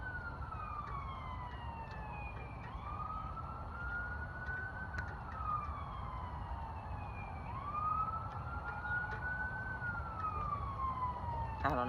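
Emergency vehicle sirens wail in the distance, rising and falling in slow repeating sweeps over a steady backdrop of low traffic rumble.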